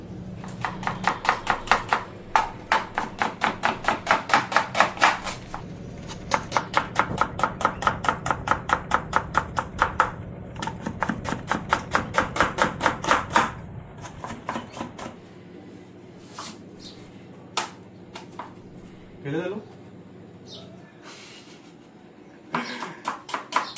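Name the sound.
chopping onions quickly with knife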